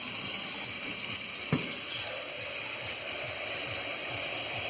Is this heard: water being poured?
yes